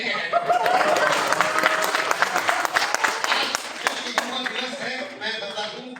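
Audience at a live Hindi poetry and comedy performance breaking into dense applause, many hands clapping steadily and then tapering off, with some crowd chatter and laughter mixed in.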